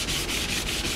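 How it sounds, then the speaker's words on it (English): Sandpaper rubbed by hand along wooden kitchen cabinet door rails, a steady close scratchy hiss with even back-and-forth strokes roughly every quarter second. "So I'm sanding the rails first."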